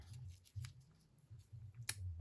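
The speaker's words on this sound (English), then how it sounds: "Scissors." Scissors snipping paper during card making, quiet close crisp cuts and rustles, with a few sharper snips over a low background hum.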